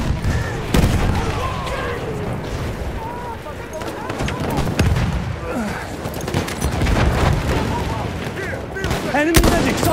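An enemy machine gun fires in Battlefield 1 on Cape Helles, with rapid bursts of gunfire mixed with other shots and booms, loud and dense, under shouted game voices.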